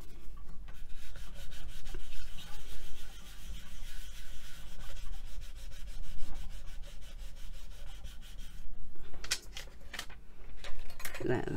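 A surface is rolled or burnished with a tool, producing a close, steady rubbing and scraping texture for most of the time, ending in a few sharper scrapes and knocks.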